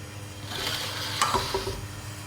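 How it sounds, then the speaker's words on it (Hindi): Marinated mutton drops into fried masala in a pot, raising a brief surge of sizzling and stirring with a single metallic clink, over faint background music. "इसमें गोश्त डालेंगे।"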